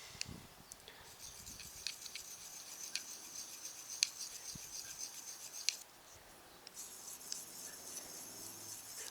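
A Manly Patriot D2 steel knife blade drawn across a DMT diamond sharpening stone in repeated gritty rasping strokes, close and fairly quiet, with a brief pause before the scraping resumes and no talking.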